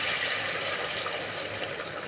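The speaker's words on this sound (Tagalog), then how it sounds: "Lagyan po natin siya ng tubig." Water pouring into a pan of sautéed patola with baby shrimp, a continuous hissing gush of liquid filling the pan, steady and close with no talk.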